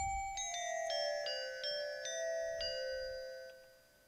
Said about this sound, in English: Your hand bells.